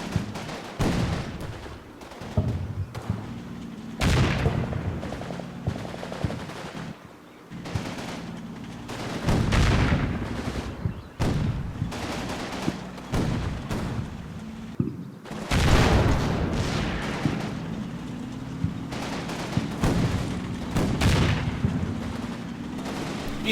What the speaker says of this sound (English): You can see they're just putting a shit ton of fire into that Panther and not getting anything out of it.